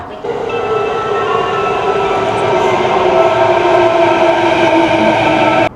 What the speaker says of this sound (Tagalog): Parating na kasi yung train.